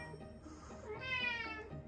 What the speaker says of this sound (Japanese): 黒猫しんちゃん。